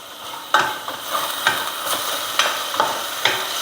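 Onions sauté and sizzle steadily in a pan for quail gravy, with ginger garlic paste and curry leaves, while a utensil scrapes and stirs in sharp, regular strokes about every half second, close and without talk.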